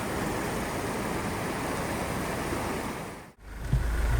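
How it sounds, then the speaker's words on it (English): A swollen river rushes loudly after heavy rain near a washed-out road, a steady broadband roar of fast water filling the whole stretch, broken by one brief dropout near the end. "That's the river on the way down now, which was just shallow on the way up."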